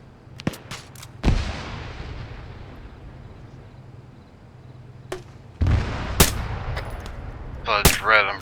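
Scattered sharp gunshots and heavy blasts in an outdoor mock battle setting, isolated cracks spaced irregularly with echoing decays, a louder cluster near the end, and a voice faintly audible.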